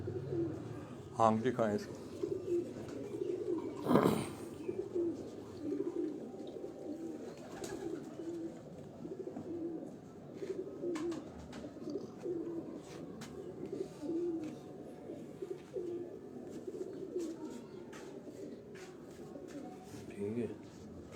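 Pipla bloodline pigeons cooing softly in a loft, repeated low throaty coos with a few wing flaps, while someone speaks close by in Hindi or Urdu.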